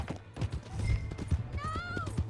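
Horse hooves clip-clop at a steady trot in the Red Dead Redemption 2 game, moderately close, with a brief whinny-like tone and voices talking over them.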